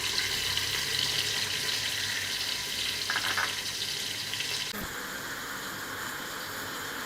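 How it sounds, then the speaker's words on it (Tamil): Sliced onions sautéing in oil and ghee with whole garam masala spices, a steady broadband sizzle and hiss that runs the whole way through, dipping slightly partway, with a brief clink near the middle. "நல்லா லைட்டாக கோல்டன் ப்ரௌன் ஆகிற வரைக்கும் வதக்கிக்கோங்க"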